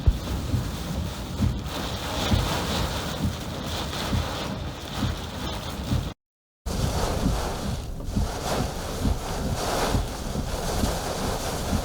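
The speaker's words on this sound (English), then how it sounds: "Now I'm getting rocked with gusts estimated over 90 miles per hour." Hurricane Nicholas winds gusting over 90 miles per hour roar and buffet the microphone continuously, with surging gusts and rushing noise throughout and a brief dropout partway through.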